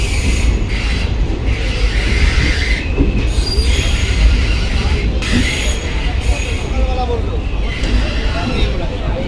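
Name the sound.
train arriving at New Jalpaiguri station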